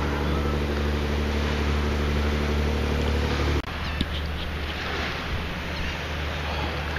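Ocean waves wash in at a low-tide beach by a cave, a steady loud roar mixed with wind buffeting the microphone, easing into softer surf rumble partway through, with no speech.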